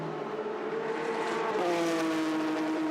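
A GT race car engine drones steadily at Sepang during pit stops, pitch shifting slightly as it slows toward the pit lane, with a faint tire squeal and no talk.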